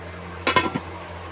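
A metal lid set down onto a cooking pot in a home kitchen, giving a few quick close clinks and a scrape within half a second, then quiet room tone.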